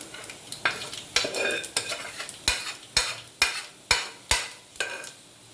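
A tempering of spices fries in oil while a metal spoon scrapes and taps the pan in a steady series of sharp clinks over a faint sizzle, close by.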